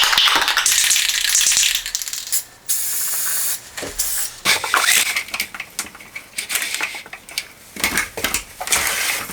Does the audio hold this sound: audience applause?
no